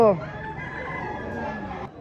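A five-year-old gamecock at a game farm in Padre Garcia gives one long, drawn-out crow that holds steady for most of the moment, heard beneath nearby people chatting.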